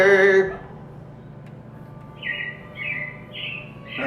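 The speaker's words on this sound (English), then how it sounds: "It looks like the Robins are getting ready to celebrate Valentine's Day today." Robins in the Carousel of Progress ride chirp in three or four short, bright calls, fairly soft, after a brief musical ending fades out.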